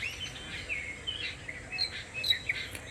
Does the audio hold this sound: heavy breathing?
no